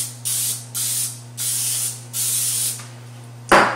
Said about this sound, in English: We're going to spray our pans lightly with a cooking spray